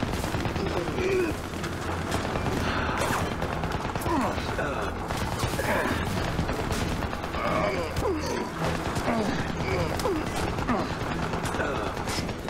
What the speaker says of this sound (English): That machine gun's pinning us down!